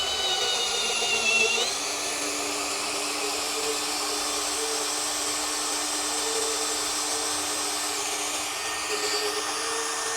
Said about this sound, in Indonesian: Jadi ini impact drill yang secara umum kebanyakan nih.